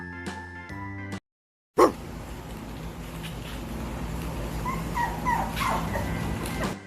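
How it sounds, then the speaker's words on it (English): A dog yips and whimpers several times over a steady background hum, following a short burst of music from a children's alphabet song and a brief silence. "D for dog. D for dog."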